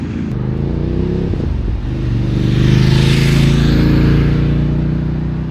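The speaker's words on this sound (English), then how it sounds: "Going down through the quick shifter now, so it's better." A Voge DS900X adventure motorcycle engine drops through gears via quick shifter, a loud close engine drone with brief blips and a swelling rev, then steady running with wind noise.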